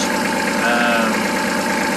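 Kubota L3200 tractor engine idling at a steady, even diesel pace, a continuous mid-level chug with no voices over it.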